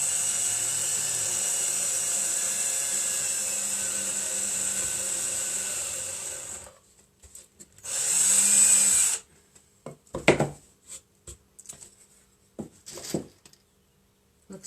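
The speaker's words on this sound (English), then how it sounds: "So I'm just going to drill a pilot hole." A power drill whines steadily for several seconds drilling a pilot hole in a wooden slat, then stops; after a pause it runs again in a short burst, followed by scattered clicks and knocks.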